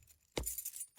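A bunch of keys jangles in the Tiny Bunny video game, with a bright metallic rattle followed by a second, shorter shake, close and clear against near silence.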